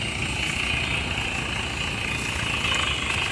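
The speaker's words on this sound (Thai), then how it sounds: "ตอนนี้เราก็เจาะขนาด 6 นิ้วนะ เจาะได้ชุด เราเรียกว่าเจาะลมนะเจาะเครื่องแอร์นะผม" An air-powered well drilling rig bores a 6-inch hole into hard sandstone and shale, giving a steady, loud mechanical drone with a constant hiss and rumble and no breaks.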